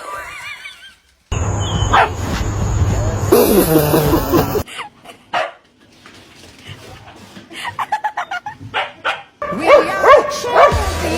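A dog barks in bursts of sharp, loud woofs with some yips, amid household noise and laughter, with people talking over parts of it.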